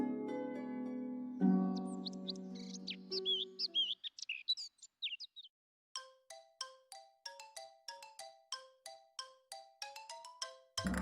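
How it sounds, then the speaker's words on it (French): A warbler sings a rapid, very high-pitched song of thin chirps and trills, clear and fairly near, following a few seconds of low sustained instrumental tones. "la fauvette a un chant particulièrement aigu"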